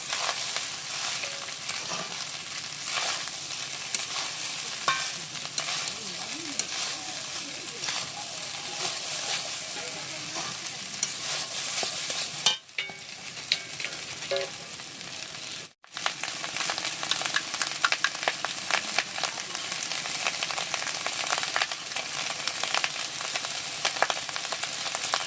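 Fried rice being stirred in a pan for a festive home-cooked meal, with ghee and sugar added, giving a steady sizzle and scraping that runs continuously for about 25 seconds with two brief pauses partway through.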